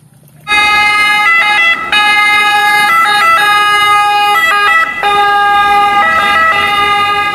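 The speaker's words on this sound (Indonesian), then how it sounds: "Wow, ini mobil ambulan." A loud electronic toy ambulance siren wails continuously in a high, tinny warble that shifts between pitches, close and steady with no voices.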